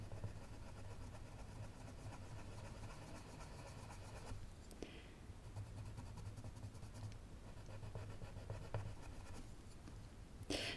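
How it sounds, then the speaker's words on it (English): Luminance white colored pencil blending over paper, a steady faint scratchy rubbing that continues close and quiet throughout, with a couple of brief clicks and no talking. "Here I have a white pencil, also Luminance. I'm going to try to blend a little bit."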